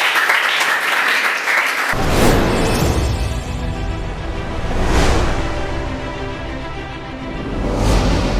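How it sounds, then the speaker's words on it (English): Audience applause at a school student debate in Nigeria, full and sustained for about eight seconds after a brief lead-in, with clapping that swells and eases in gentle waves and stays loud throughout. "So, a round of applause for them."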